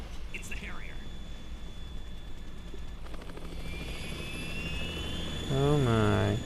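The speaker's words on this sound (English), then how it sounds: "It's the Harrier." Harrier jet in the Metal Gear Solid 2 video game roaring with a steady engine drone, rising whine and a louder swell near the end, heard alone without talk.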